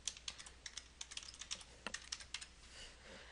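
Someone types a password on a computer keyboard, a quick irregular burst of light key clicks close by, fairly quiet, with no one speaking.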